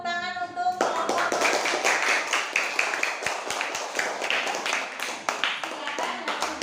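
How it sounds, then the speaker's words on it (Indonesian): A classroom group is applauded by classmates, with scattered hand claps forming a steady patter that starts right after a brief voiced tone and carries on for several seconds, fairly close and moderately loud. "Beri tepuk tangan untuk kelompok."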